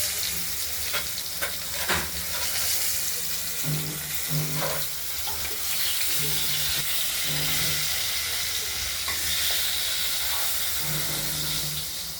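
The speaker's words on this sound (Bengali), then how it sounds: "পটলগুলো আমরা এইভাবে হলুদ করে ভেজে নিচ্ছি" Pieces of pointed gourd coated in turmeric fry in hot oil with a steady, loud sizzle and crackle, punctuated by soft scrapes and taps of stirring.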